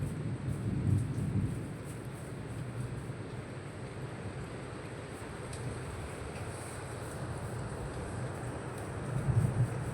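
Light rain falls outside a school kitchen, a steady, soft, even hiss that carries through the whole stretch with a few low rumbles, no voices present.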